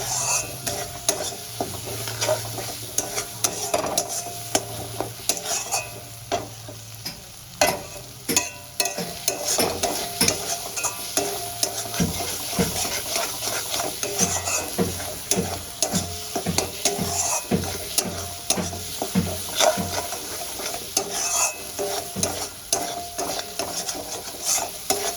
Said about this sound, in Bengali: মশলাটা আমার খুব ভালো করে কষানো হয়ে গেছে